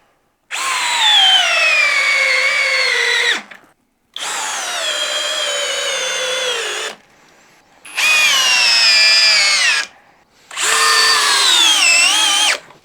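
A Bosch homeowner drill drives a 6-inch Timberlok screw in four long whining bursts, each a few seconds long. The motor pitch sags as the screw bites deeper, with short pauses between runs.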